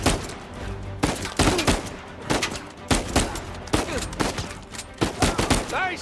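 Gunfire in the video game Uncharted 4: repeated loud bursts and single shots crack close by in an irregular rhythm, with faint voices between volleys.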